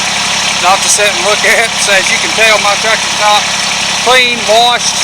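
A working farm tractor engine idles steadily and loudly close by, its low rumble continuous beneath someone talking over it.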